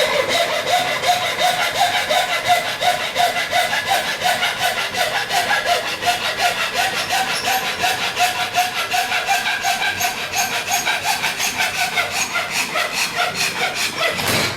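A handsaw cutting wood at a 60 degree angle for a table lamp, steady rhythmic back-and-forth rasping strokes, loud and close, with no talking.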